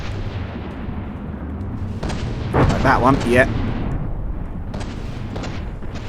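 Explosions and gunfire from naval battle in the From the Depths video game, a steady rumble of distant blasts with a sharper burst midway, while someone speaks briefly over it.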